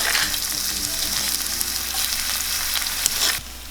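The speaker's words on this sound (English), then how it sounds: "I will add my chili and garlic." Chili and garlic hit hot oil for Thai pork belly basil, a loud continuous sizzle with stirring scrapes that drops off sharply near the end.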